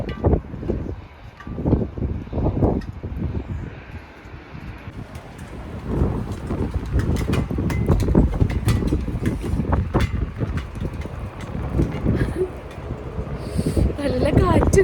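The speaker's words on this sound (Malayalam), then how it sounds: "നല്ല കാറ്റുണ്ട്." Strong wind buffeting a balcony during the first snowfall of the season in Switzerland, a loud gusty rumble and roar against the microphone that keeps going under a person speaking.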